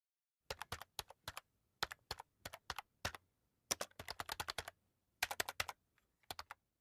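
Quiet bursts of computer keyboard typing, quick clusters of crisp key clicks separated by short pauses, close and alone.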